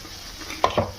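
Peanuts frying in a pan, a brief low sizzle broken by two quick scraping stirs close by, with no voices.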